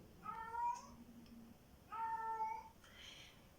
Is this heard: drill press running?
no